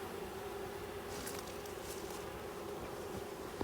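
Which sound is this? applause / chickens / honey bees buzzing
honey bees buzzing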